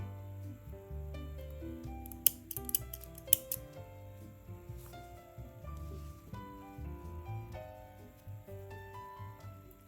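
Scissors snip yarn once after a thick crocheted dish scrubber is finished, giving a few quick, crisp close clicks over soft background music.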